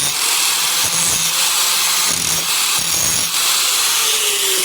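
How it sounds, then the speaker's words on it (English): An angle grinder works a small steel floor patch piece for a 1956 Studebaker Power Hawk, a loud, continuous high-pitched grinding whine up close with slight dips as passes are made. "I took a couple of passes at this little piece with the grinder, just to refine the shape a little bit"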